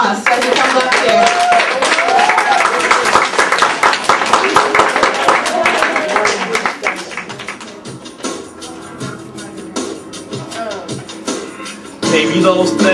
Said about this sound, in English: let's give him a big applause as he comes up here